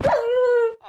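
A dog in a survival video game lets out a single loud, drawn-out howling bark lasting most of a second, close and clear, with a brief fainter sound right after.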